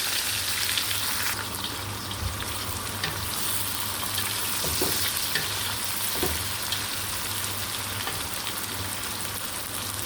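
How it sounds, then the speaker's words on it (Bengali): Sliced onions, about 250 grams, sizzling steadily in hot oil in a kitchen pan, a dense continuous crackle with occasional stirring scrapes and a low hum beneath, close and even throughout. "সেই পেঁয়াজটা আমরা হালকা একটু ভেজে নেব।"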